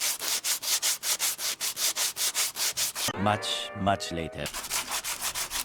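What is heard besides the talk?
sanding down filler on a rusty Miata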